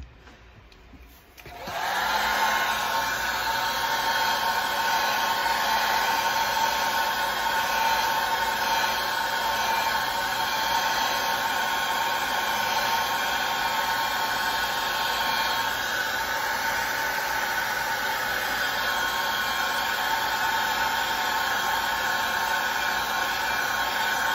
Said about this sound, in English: let's go ahead and heat set this